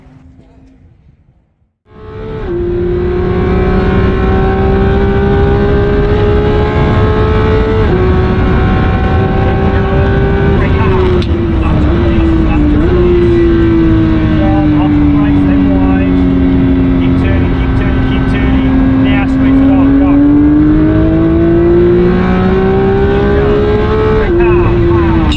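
Porsche GT3 on a race track, its engine droning loud and steady from near start to finish with pitch rising and falling through shifts and corners, after a brief quieter moment at the start.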